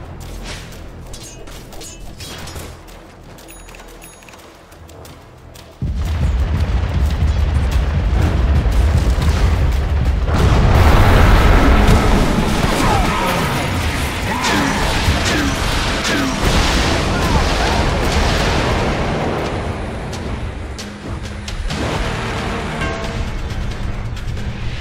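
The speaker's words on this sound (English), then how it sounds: "Dire's top tower is under attack." Loud booming blasts and clattering combat effects from a Dota 2 match while a tower is under attack, rising sharply after a quieter opening and holding as a dense, rumbling barrage throughout.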